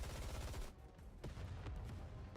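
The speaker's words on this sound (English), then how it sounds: "She thrusts her arm forward and with a barrage of gunfire erupts" Rapid gunfire barrage from Black Ark Ranger's transformed arm in the video game Nikke: Goddess of Victory, a dense rattling volley that breaks off briefly, then resumes with sharp bursts.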